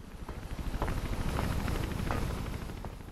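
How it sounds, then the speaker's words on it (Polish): A helicopter in the video game Mirror's Edge, heard near the rooftop of a central tower: a loud, rhythmic rotor chop that pulses steadily over a low engine rumble, with no speech. "Hmm, helikopter."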